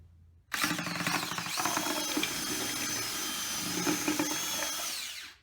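A paint mixer drill churns skim coating joint compound, starting abruptly and running at a steady, loud whir with a slight drop in pitch as the paddle catches the thick mud, then cutting off at the end.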